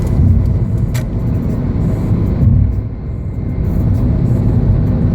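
A Honda Accord with newly replaced spark plugs cruises at highway speed, around 80, its steady engine drone and road roar loud and continuous throughout with no voices.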